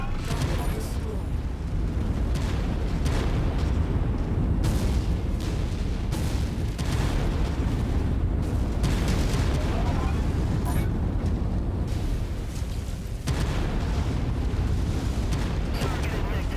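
Battle in the video game MechWarrior 5 as a mech is destroyed: a dense run of heavy booms, bursts and crackling blasts keeps the low end rumbling, with sharp broadband hits popping through at irregular intervals.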